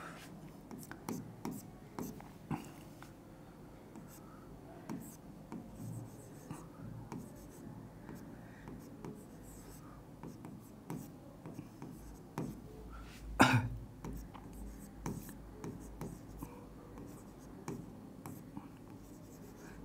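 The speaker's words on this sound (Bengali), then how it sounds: "আমি এখানে লিখে দিচ্ছি, লেখো।" Handwriting during a chemistry lecture in a classroom or study room, with quiet, repeated scratchy pen strokes in short bursts, faint and close, plus a single cough and occasional low murmurs.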